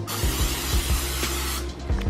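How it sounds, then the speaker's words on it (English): Pam cooking spray hisses steadily from its can onto a baking dish prepared for bread pudding, one close, continuous spray lasting about a second and a half, with faint taps underneath. "I'm gonna spray it with Pam so that our bread pudding does not stick"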